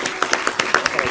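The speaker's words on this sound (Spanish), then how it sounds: "Un aplauso grande para el maestro." At a literary conversation event, an audience applauds for the maestro with a quick, fairly even run of close hand claps over a continuous background murmur.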